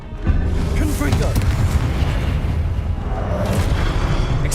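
Confringo spell explosions in the video game Hogwarts Legacy, loud rumbling booms and blasts over a continuous layer of game noise, with voices speaking over the action.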